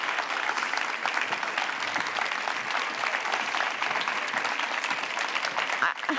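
An audience applauds a poet at a closing plenary of a global food policy forum in Barcelona, with sustained, even clapping from a large crowd at moderate volume and no pause.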